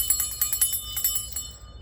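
A small bell rings repeatedly, bright high chimes struck about four or five times in quick succession before fading out near the end, fairly clear and close against a low background hum.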